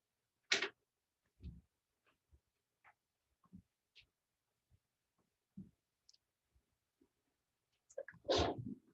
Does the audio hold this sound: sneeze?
yes